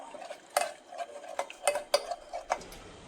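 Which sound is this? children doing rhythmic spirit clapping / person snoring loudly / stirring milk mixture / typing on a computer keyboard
stirring milk mixture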